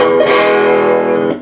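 A single sustained electric guitar chord through a small tube amp rings out with a thick, driven tone, sounding dry with the reverb off and no lingering echo, then fades at the end.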